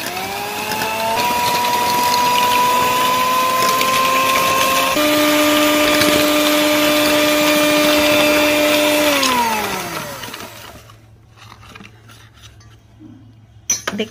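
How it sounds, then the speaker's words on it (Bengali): An electric blender runs on a yogurt drink mixed with black pepper, sugar, black salt and white salt, a loud steady whir that shifts pitch partway through, then winds down after about ten seconds into quiet. "এবার এটাকে আমি ব্লেন্ড করব।"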